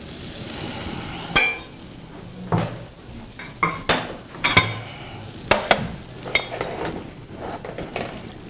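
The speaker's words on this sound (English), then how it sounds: "in a non-stick pan, I'll just take it for breakfast and put some of those egg whites in there" Egg whites cooking in a non-stick pan at breakfast, with a soft background sizzle broken by repeated sharp scrapes and clinks of a utensil stirring against the pan, close and fairly loud.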